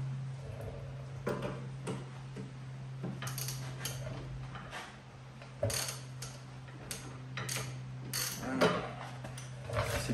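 A ratchet wrench with a six-sided 13 mm socket clicks in short, quiet bursts while working a nut on a Subaru Legacy during a rear wheel bearing replacement. A low steady hum runs underneath.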